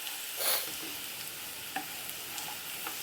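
Potato pieces fry in a pan with sugar and spices while being stirred, giving a steady soft sizzle with a few faint scrapes and clicks of the spoon, quiet and without talking.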